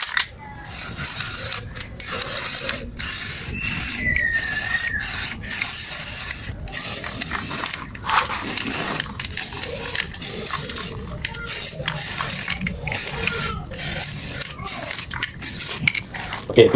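A rattling aerosol can of Samurai epoxy grey surfacer sprays in repeated short bursts onto the rear drum brake of a Perodua Alza, close and loud, with brief gaps between passes.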